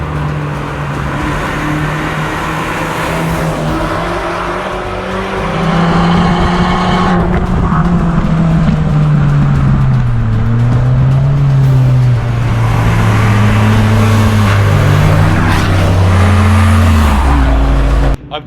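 An Abarth 695 drives at a car meet in Milan, its engine droning steadily and rising and falling through the gears, loud and close throughout, with no voices.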